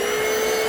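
A Black & Decker Powerseries+ cordless stick vacuum whirs in a short, steady, close motor whine.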